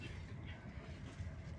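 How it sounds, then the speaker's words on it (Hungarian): Steady low rumble and rattle of a moving train heard from inside a passenger carriage, continuous and fairly loud with no clear voices. "Ez a második vonat, amin megyünk ma."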